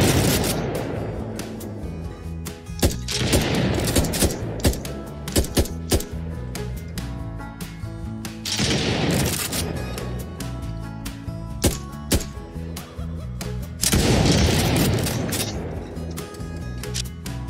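Rifle and shotgun fire in an Unreal Engine 4 third-person shooter game, a rapid, closely miked series of sharp, crackling gunshots in uneven bursts with a few heavier blasts, loud and with no talking.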